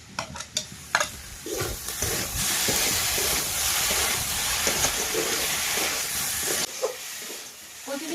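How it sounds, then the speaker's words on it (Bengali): Boiled taro is sautéed with ginger-cumin paste in a pan, giving close scraping and stirring strokes over a steady sizzle and steamy hiss. A few sharp knocks open the sequence, and the frying quiets near the end. "এবার আদা জিরে বাটাটা দিয়ে ভালোভাবে কষিয়ে নেবো"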